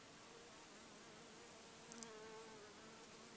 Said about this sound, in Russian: вот пчела летает